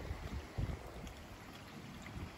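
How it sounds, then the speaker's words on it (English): Gusty wind buffeting the microphone outdoors beside a garden koi pond, faint overall with a couple of low thumping gusts over steady soft noise. "Sorry about the wind, guys."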